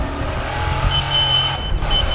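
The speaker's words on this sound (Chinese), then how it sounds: "我开车过去接你。" A car engine drones steadily in Battlefield Hardline during a heist mission, a close, continuous low hum with a thin high whine layered on top.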